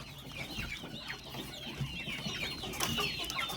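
Dense high chirping and peeping from many newly hatched chicks, continuous and busy, with occasional louder calls standing out over a low background rumble.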